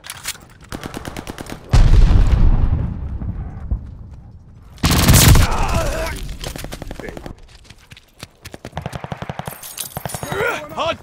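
Gunfire in Call of Duty: Vanguard during a hardpoint match, bursts of rapid automatic shots with two loud heavy blasts, broken by short gaps, with a voice calling out between them.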